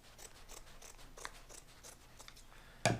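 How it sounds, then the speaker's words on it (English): Scissors snip through fabric for a homemade reusable grocery bag, a quick run of soft, close crisp cuts ending in a louder sharp snap, heard alone and quiet. "Run the scissors in there."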